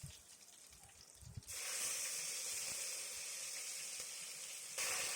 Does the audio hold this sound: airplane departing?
no